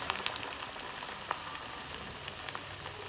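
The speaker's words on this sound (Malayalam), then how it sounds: "എന്നിട്ട് എണ്ണയിലിട്ടൊന്ന് പൊരിച്ചെടുക്കാം. അപ്പോൾ അത് നല്ലോണം പൊരിഞ്ഞ് വരും." Mussel and onion vada frying in hot oil, a steady bright sizzle with scattered small pops, close and continuous.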